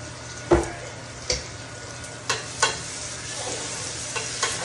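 Fish frying in a pan at home, a steady close sizzle broken by several sharp clacks of utensils against the pan, with no talking.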